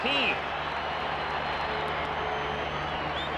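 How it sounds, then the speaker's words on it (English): A crowd at Veterans Stadium during a 1983 World Series baseball game gives off a steady, broad roar of distant cheering and applause. A broadcast voice speaks briefly at the start. "So the crowd tries to come to life."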